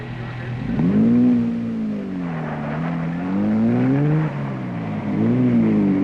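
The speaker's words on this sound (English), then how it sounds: "The remaining big cars start to arrive thanks to some magnificent driving by their crews" Big vintage cars, among them a Peugeot 403, pull in with engine whine rising and falling in pitch over several seconds, loud and close, under a continuous bed of road rumble.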